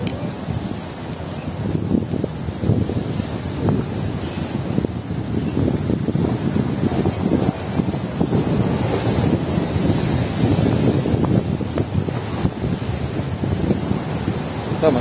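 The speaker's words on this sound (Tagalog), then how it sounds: "Ito, mas malalaki yung alon pala dito eh." Heavy surf of large waves rolls and crashes continuously on the shore at Jeddah, Saudi Arabia, a loud steady roar with gusting wind and no clear voices.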